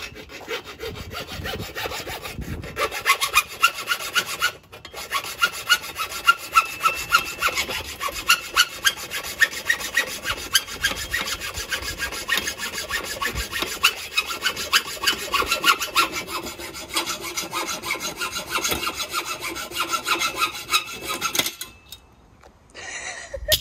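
Angle iron being cut for a DIY skatepark, a steady, loud rasping saw stroke running nearly continuously for over twenty seconds with brief breaks, then cutting off near the end.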